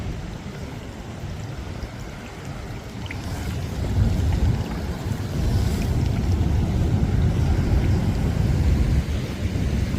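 Indian Ocean water surging through coastal rocks on a chilly day, a steady close roar and rush of churning surf that swells midway, with wind buffeting the microphone.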